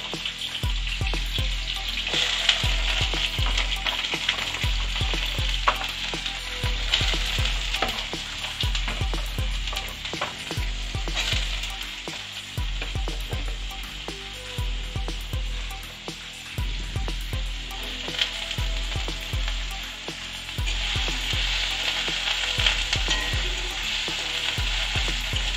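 Diced potatoes fry in hot oil with a cumin tempering, a steady close sizzle with frequent scraping stirs and tapping of the utensil against the pan going on throughout, no one speaking.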